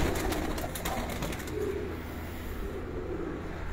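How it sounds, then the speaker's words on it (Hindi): Pigeons coo on a rooftop, a few soft, low, throaty calls repeated close by over a quiet background. "ये भी मोतियों वाले कबूतर हैं"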